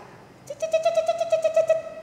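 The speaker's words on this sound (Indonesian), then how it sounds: "di atas pohon, suara burung ya." A bird gives a rapid series of repeated hooting notes, steady and fairly close, with faint background noise.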